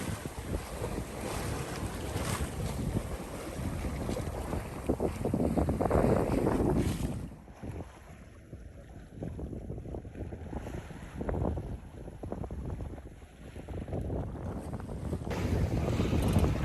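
A sailboat heads up the Isle of Man coast toward Douglas Marina in strong katabatic wind, with loud, steady wind buffeting the microphone and rushing water along the hull that ease for a few seconds and then build again.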